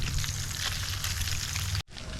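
Fish fillets dropped into grease in a pan and left to cook, giving a steady, dense crackling sizzle close by and fairly loud, continuing without pause before a brief cut and resuming.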